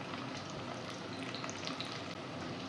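Whole bay leaves, cloves, star anise, cardamom and cinnamon sizzle quietly in oil for a mutton and chana dal curry, a soft, even crackle with no break.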